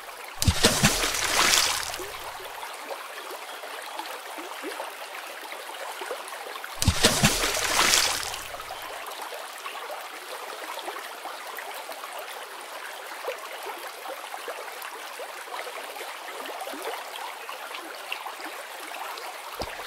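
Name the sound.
river water around boat as net is cast, cartoon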